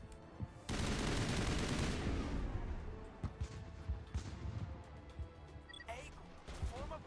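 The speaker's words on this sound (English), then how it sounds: "I want to shoot him in the head." Gunfire in the video game Mass Effect, a loud burst of rapid shots that fades into a scatter of sharp single cracks and impacts, with brief talk in the background.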